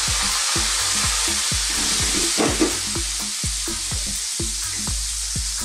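Flour-dusted sardines fry in butter and olive oil, a loud, close, unbroken sizzle with a regular series of soft low thumps running beneath it.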